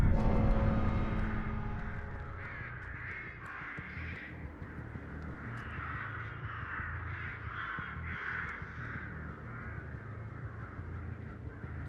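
Crow caws repeatedly in the Dead by Daylight game as the bird flies off, harsh calls recurring over a steady low ambient rumble, moderately loud and close, with no talking.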